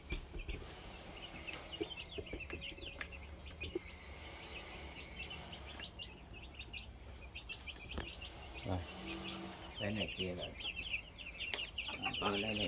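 Ten newly bought baby chicks cluck and peep continuously up close, with dense chirping that grows busier near the end and a voice talking at times.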